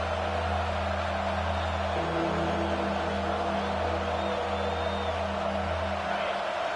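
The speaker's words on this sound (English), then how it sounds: "Decibels rising as the crowd gets behind this defense on third down." Sustained, low roar of a stadium crowd cheering during a college football video game between Alabama and Rutgers, a steady wash of noise with droning tones, no breaks and no clear voices on top.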